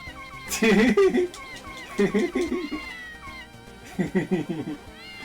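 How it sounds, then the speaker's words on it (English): Cartoonish cat meows come from a noisy object in a video game, three bursts of wavering, drawn-out mewing separated by short pauses, fairly clear with faint background sound. "You can sometimes hear dog barking coming from it. Cat meowing!"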